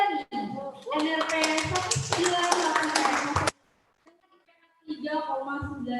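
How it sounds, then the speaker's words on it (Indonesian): Audience applause rises at a law faculty anniversary ceremony for a student with a 3.95 GPA. The clapping is steady and mixed with a voice over a microphone, stops briefly and then resumes. "Boleh beri tepuk tangan sekali lagi teman-teman"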